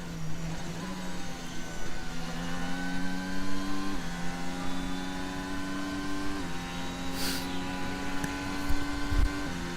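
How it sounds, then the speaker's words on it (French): A Formula 1 car engine drones with a steady high whine during practice at the Italian Grand Prix, its pitch stepping up in stages as it holds flat out at the end of a straight, heard from a distance. "vous entendez le moteur qui stagne en fait en bout de ligne droite"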